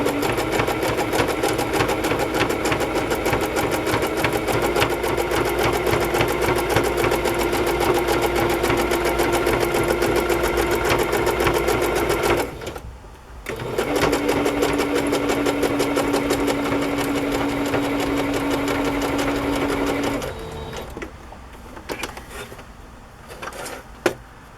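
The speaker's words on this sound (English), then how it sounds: "sewing machine is protesting so many layers." A sewing machine stitches through many layers of padded fabric, a loud steady mechanical whir that runs for long stretches, stops briefly, resumes, then halts near the end.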